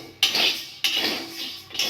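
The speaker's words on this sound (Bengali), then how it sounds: "সাবুগুলো একটু ভেজে নেব।" Dry sago pearls roasting and being stirred in a hot kadai for sago luchi, giving three bursts of close metallic scraping and rattling, each fading before the next stir.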